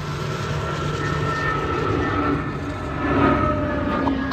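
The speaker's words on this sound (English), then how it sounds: "Plane." A steady, loud engine drone of an airplane passing overhead, swelling slightly toward the end, with no voices.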